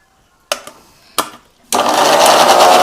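A kitchen mixer grinder blends onion and garlic into a paste. Two short pulsed bursts come first, then a loud, steady whirring grind that carries on to the end.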